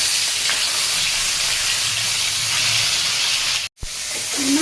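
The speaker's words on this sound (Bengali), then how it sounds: "কড়াই গরম হয়ে গেছে তেল দিয়ে দিলাম তেলও গরম হয়ে গেছে এই যে মাছের মাথাগুলো দিয়ে দিই" Fish heads fry in hot oil in a wok, giving a loud steady sizzle and hiss with a brief cut near the end and no talking.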